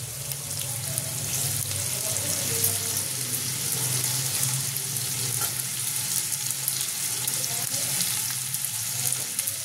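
Capsicum sizzling and frying in a hot pan while chicken chow mein is cooked, a steady, dense crackle that runs without a break for the whole stretch, fairly close, with light stirring and no talk.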